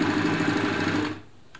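An ultra compact elna Lotus SP sewing machine runs a tricot stitch with a fast, even mechanical whir for about a second, then stops, followed by a faint click.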